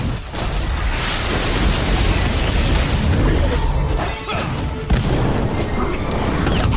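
A continuous roaring blast of the Confringo fire spell in the game Harry Potter: Magic Awakened, loud and dense with booming crashes throughout and a sharp pop near the end.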